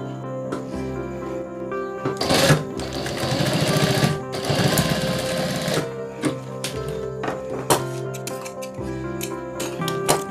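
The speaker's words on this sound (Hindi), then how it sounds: "उसके बाद यहाँ हम एक सिलाई कर लेंगे" A sewing machine stitches the folded edge of a trekking bag in short bursts of rapid mechanical whirring, separated by clicks and handling pauses, heard close.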